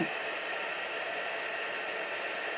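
A heat embossing gun blows hot air over embossing powder for an enamel effect, a steady close whooshing hiss that holds level and continuous throughout with no talk.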